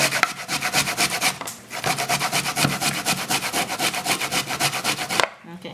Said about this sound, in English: Then you grate the cassava.